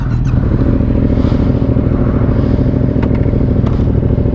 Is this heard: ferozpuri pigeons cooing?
no